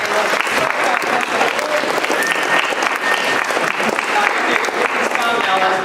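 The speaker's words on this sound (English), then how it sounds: "let's give Leroy a round of applause." A studio audience breaks into loud, sustained applause, a dense wash of clapping with a few voices mixed in.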